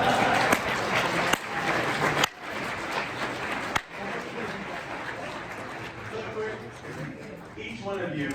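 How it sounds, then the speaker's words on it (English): A room of people applauds at a gathering, a broad wash of clapping mixed with crowd noise and talk, with a few abrupt cuts and a change in texture partway through. "Let's just give them all a round of applause."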